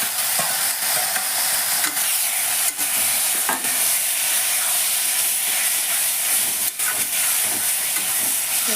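Bottle gourd peel poured into hot oil with grated coconut gives a loud, close, continuous sizzling hiss, broken only by a few sharp knocks from stirring, with no voices over it.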